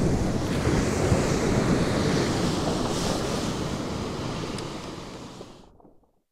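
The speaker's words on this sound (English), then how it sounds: "I'm here at Karakalinga Beach, and this is my third attempt to try and photograph here." Ocean surf rolls continuously onto Karakalinga Beach in a steady, loud broadband wash, with wind buffeting the microphone, and stops abruptly near the end.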